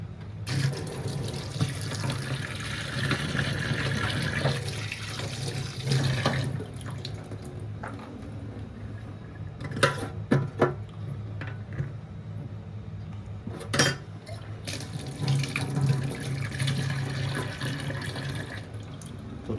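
Black chickpeas are rinsed under a running kitchen tap, producing a steady stream of water into a vessel, with occasional splashes and sharp clinks as the peas are stirred and handled.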